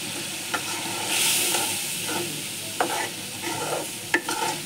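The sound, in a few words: hilsa fish roe cooking and being stirred in dal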